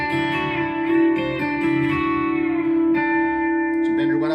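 An electric guitar with a B-bender plays a lick in D, its twangy notes bending up and back down over a sustained chord, close and clear.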